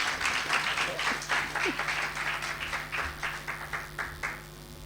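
Applause from an evening awards-ceremony audience at Utech greeting a female awardee, a moderate rippling patter of clapping with a faint voice underneath, tapering toward the end.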